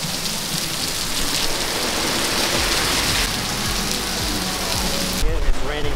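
Heavy tropical rain pours down in Singapore as a dense, steady, loud roar of drops hitting the ground and surfaces, with no break throughout.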